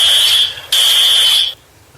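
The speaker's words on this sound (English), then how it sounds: "That sounds like a fire alarm." A loud, shrill fire alarm sounds in two bursts separated by a brief dip, then cuts off, leaving near silence.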